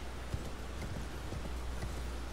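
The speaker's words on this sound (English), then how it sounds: "And gallop all the way up the road." Hoofbeats of a horse galloping along a road in the video game Elden Ring, a steady rhythmic clip-clop of repeated thuds over a constant low rumble, moderately close and alone without talk.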